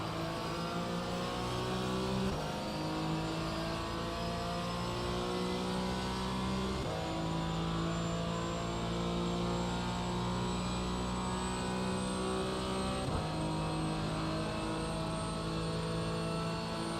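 LMP3 prototype race cars roar past on the Daytona circuit in a racing game, a steady engine drone with rising pitch sweeps as gears shift, loud and continuous with no talk.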